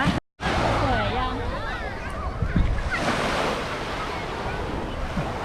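Sea waves wash in at Bang Saen beach in Thailand, a steady broad surf roar with some wind buffeting the microphone, while a voice and children's chatter carry over the top.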